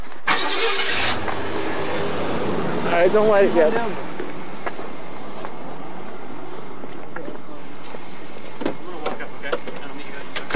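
Car engines cranking and catching at night, an engine turning over loudly near the start before settling into a rumbling idle, with people talking over it throughout.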